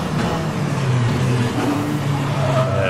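Renault R.S. 01 race car with a 3.8-liter twin-turbocharged V6 in rFactor 2 during a multi-class race at Montreal, a steady loud engine drone holding constant with no voices.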